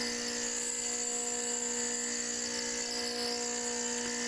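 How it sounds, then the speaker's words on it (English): A surface grinder putting a point on the end of a mold part, giving a steady high-pitched whine with a constant hum that runs unbroken and fairly loud throughout. "you can cut pretty good shapes and round parts with a surface grinder"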